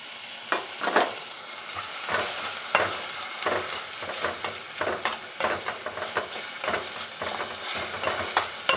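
Onion, tomato, ginger and green chilli sautéing in a pan, with soft sizzling under repeated scraping stirs of a spatula in an irregular rhythm.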